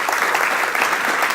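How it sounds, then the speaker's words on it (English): Audience applause for a guest speaker at a developer event, a dense, steady wash of many hands clapping that runs loud and continuous through the whole short moment with no voices over it. "I want a big round of applause for Fernando."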